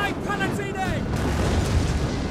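A deep artillery cannon blast booms in the Total War: Attila battle game, followed by a rolling, fading rumble of the explosion over the rest of the moment.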